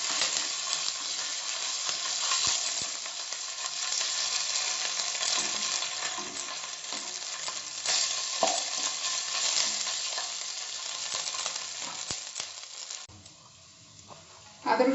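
Ginger garlic paste sizzles and fries in a pan while being stirred, a steady close hiss with scraping strokes throughout, dropping away briefly near the end before a final clatter.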